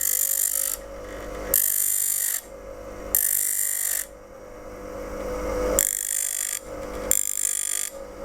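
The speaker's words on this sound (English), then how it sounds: "Sometimes what I do is I use the corner of the grinding wheel like this." A woodcarver's skew chisel pressed to the corner of a grinding wheel, bursts of harsh hissing grind alternating with quieter gaps about every second as the edge is thinned, over a steady motor hum, no voices.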